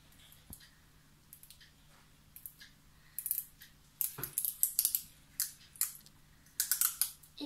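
Scissors snipping adhesive tape while a paper pan flute is being made, several sharp crisp cuts and crinkles clustered in the second half, close and fairly quiet with no talk.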